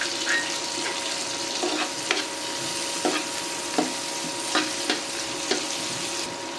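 Onion frying in oil with cardamom, cloves, cinnamon and mace for a butter chicken gravy, making a steady hiss and sizzle with regular spaced stirring scrapes against the pan and no speech.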